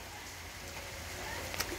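Sunday rain falls steadily outdoors near a river, a soft, even wash of broadband hiss with no distinct drops standing out and no one speaking.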